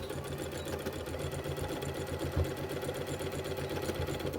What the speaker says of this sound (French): Je vais coudre le long envers contre envers. Je couds à 1 cm.